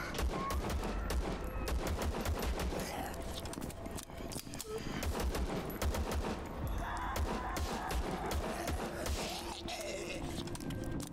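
Relentless gunfire in the brutal first-person shooter VLADiK BRUTAL, a dense stream of rapid shots and bursts that carries on through the whole stretch, loud and close, with a voice talking over it.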